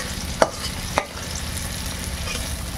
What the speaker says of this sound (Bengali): তাই লাবড়ার সবজিগুলোকে আগে ভেজে নিচ্ছি।